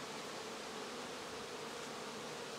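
Honeybees swarming around an open hive during an inspection, a dense, continuous buzzing hum that stays steady and close throughout.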